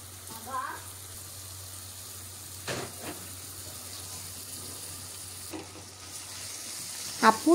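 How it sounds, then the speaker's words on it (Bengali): Chopped chicken hits a pan already holding cinnamon and cardamom, giving a low steady sizzle with a few scraping stirs and a louder clatter near the end. "তারপর কুচি কুচি করে কেটে রাখা চিকেনটাও দিয়ে দিব।"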